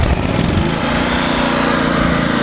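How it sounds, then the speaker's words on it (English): A Lincoln Trailblazer 325 EFI welder generator's engine runs loud and close, a harsh, buzzing mechanical drone held steady for a couple of seconds with no voices. "I'm gonna see what this engine does"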